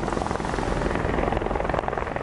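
A rescue helicopter hovering over a stranded ship as a crew member is lifted off, its rotor chop loud and steady throughout with no voices.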